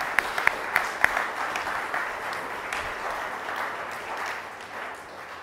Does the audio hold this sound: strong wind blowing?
no